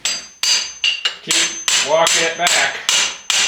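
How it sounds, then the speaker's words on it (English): A hammer striking a metal punch while working on a Yamaha 700 SRX snowmobile: about eight sharp, loud, close metallic blows at a steady pace, with someone speaking briefly between strikes. "I'm just going to take a hammer and punch here"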